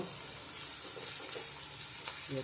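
Okra fries in plenty of hot oil in a pan, a soft, steady sizzle with light crackles and an occasional stirring clink, heard alone and fairly quiet.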